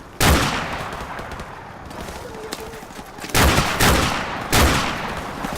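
Gunfire in the video game Call of Duty Modern Warfare Remastered: loud, close bursts of rifle fire, one at the start and two more near the end, over a dense background of battle noise.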